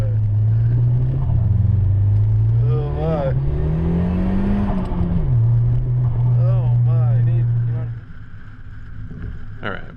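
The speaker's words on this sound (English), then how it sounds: "Oh, there's a car coming." A 1993 Volvo 940 engine droning loudly and close, its pitch rising and falling as it revs on a snowy closed course, then dropping away near the end; people talk over the engine noise.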